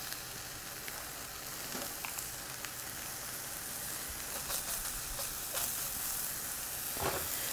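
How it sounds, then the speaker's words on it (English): Hot sausage browns in a pan for a sausage casserole, giving a faint, even crackling sizzle with a few soft clicks of stirring or breaking up, close by and without talk. "we're just going to go ahead and brown up this sausage"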